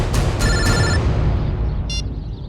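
A telephone rings with a few bright electronic chirps, repeating quickly and then sounding once more after a pause, over a low rumbling background, with no one speaking.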